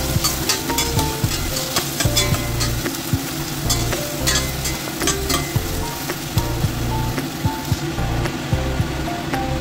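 Ginger and garlic sautéing in hot oil in a pan for a chicken stew in dark soy sauce, a steady loud sizzle with crackles and stirring clatter throughout.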